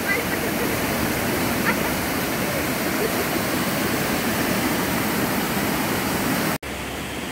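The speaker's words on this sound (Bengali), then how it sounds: "সাধারণ ঝর্ণা, কিন্তু শুধু বর্ষার জলে এইরকম জল হয়ে সুন্দর স্রোতের সঙ্গে নিচে নামছে।" A monsoon-fed waterfall in the hills near Kalimpong, North Bengal, rushes down in a loud, unbroken roar, heard close up from a railing with no talk.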